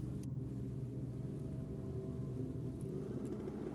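Drag racing car at Sydney Dragway on a still evening, a steady low engine rumble from a distance, continuous and fairly faint with no sharp bursts.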